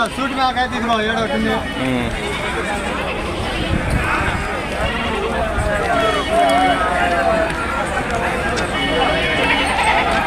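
Several black and spotted goats bleat over a constant murmur of crowd voices and haggling at the Kunta goat market in Ongole district, the calls rising and falling across an open marketplace.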